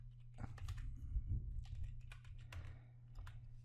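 Light, scattered keystrokes on a computer keyboard tap out a password over a low steady hum, close and irregular, with no talking.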